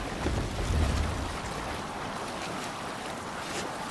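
A Viking longship sails over the sea in Assassin's Creed Valhalla, with a steady broadband wash of waves and wind and a stronger surge of low water rush near the start, with no voices.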